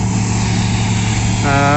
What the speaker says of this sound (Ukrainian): І знову продовжаємо молотити сою.